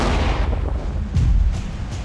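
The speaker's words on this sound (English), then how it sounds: "Fire!" An avalanche control artillery gun fires an explosive shell to test the snowpack, one heavy deep boom that rumbles on and echoes across the mountain for about two seconds.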